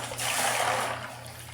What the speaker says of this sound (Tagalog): Binuhusan ko ng tubig.